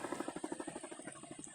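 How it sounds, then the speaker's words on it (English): Military helicopter circling overhead in loops, heard as a faint, rapid rhythmic thudding of rotor blades that holds steady at a distance. "You hear the helicopter?"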